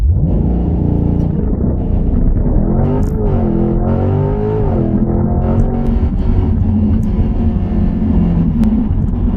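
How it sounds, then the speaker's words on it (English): A car launching hard in sport mode with a competitive driving mode for a 0 to 60 run, a loud steady engine roar climbing in pitch through gear changes, continuous and close, no talk. "my first 0 to 60 run, I've got it in sport mode with competitive driving mode"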